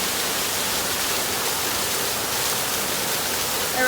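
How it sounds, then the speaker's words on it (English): Laurel Falls, a big waterfall, gives a steady broadband roar of falling water, constant and fairly close with no other sounds. "I recommend this trail to anybody who wants to see a big waterfall."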